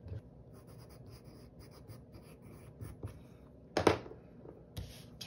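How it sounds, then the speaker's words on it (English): Handwritten notes being jotted down with a pen on paper, a faint continuous scratching with a few louder taps and strokes, close and quiet, with no talking. "let me write these down"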